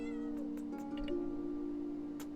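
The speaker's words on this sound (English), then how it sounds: "Meow to you too." A pet cat meows indoors, a drawn-out tonal call with a few soft ticks and clicks in the background and no talk.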